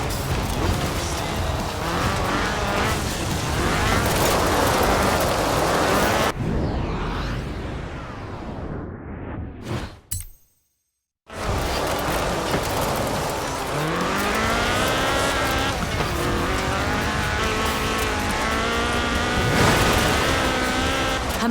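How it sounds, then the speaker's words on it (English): Ford Escort RS 1800 rally car with a fuel-injected 1790cc Cosworth BDE engine, driven in Forza Horizon 4, revs hard through gear changes with tire noise, cuts to near silence briefly, then roars back with rising engine pitch, loud and continuous. "This was a car designed explicitly for rallying, with a powerful fuel-injected 1790cc Cosworth BDE engine."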